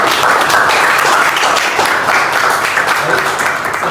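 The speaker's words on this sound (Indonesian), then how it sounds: "Silakan aplaus dulu." Audience applause at an academic presentation session at a university, dense, steady clapping from a room full of people, loud and close, lasting the whole stretch with faint voices beneath.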